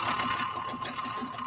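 A sewing machine stitches through stiff cardstock, its steady motor whir running continuously and fairly loud throughout.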